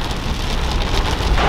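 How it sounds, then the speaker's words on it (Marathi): Heavy rain pounds down during a car drive, a loud, dense and continuous drumming wash that fills the whole stretch without any voices. "इथे पुन्हा पाऊस जोरजोरात चालू आहे."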